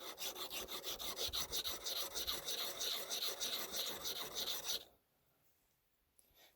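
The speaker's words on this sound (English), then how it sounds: "I'm holding the blade completely flat to the stone." A chisel blade rubbed flat back and forth on a sharpening stone while building kitchen cabinets, giving a steady, close rasping stroke rhythm for about five seconds before it stops into near silence.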